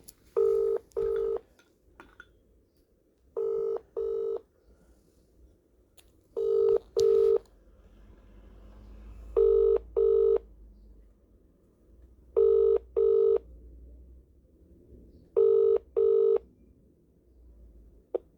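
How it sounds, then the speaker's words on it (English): Mobile phone ringing in repeated double bursts, six pairs evenly spaced a few seconds apart, clear and fairly loud over a quiet background. "Ringing up Graham, Christopher Browell."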